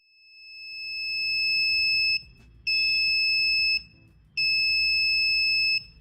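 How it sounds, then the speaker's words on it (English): An Arduino proximity sensor alarm on a breadboard circuit sounds three sustained, piercing electronic beeps, each lasting about a second with short gaps between, loud and close, with no voices. "When an object comes close to the sensor, the system detects it and sounds the alarm."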